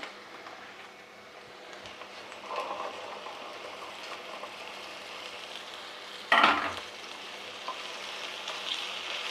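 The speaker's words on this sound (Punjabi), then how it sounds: "ਪਿਆਜ਼ ਫਰਾਈ ਹੁੰਦੇ ਹੁੰਦੇ ਨਾਲ ਹੀ ਆਪਣੀ ਅਰਬੀ ਫਰਾਈ ਹੋ ਜੂਗੀ" Taro (arbi) pieces frying with onions in a pan give a steady, close sizzle across the whole stretch, with a brief louder burst of stirring or scraping partway through.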